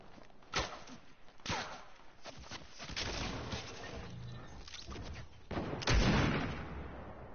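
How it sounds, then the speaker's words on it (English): Sniper shots in a video game ring out as several sharp cracks with booming tails, spread across a busy game soundscape of rumbling and impacts. "Oh, I just got sniped."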